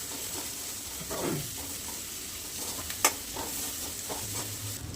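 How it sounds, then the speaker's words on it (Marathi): A spice masala fries in a pan with a constant low sizzle, while a spoon scrapes and stirs it in soft irregular strokes, one sharper clink partway through, close up and without speech. "सगळा मसालाही असं हलवून घेणार आहे"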